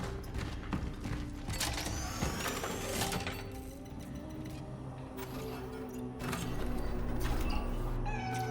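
A cat meowing inside the video game Cronos: The New Dawn, several plaintive meows over a busy bed of mechanical creaks, clanks and ambient game noise, with the background swelling louder toward the end.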